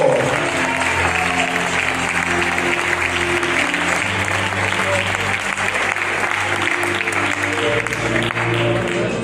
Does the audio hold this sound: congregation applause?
yes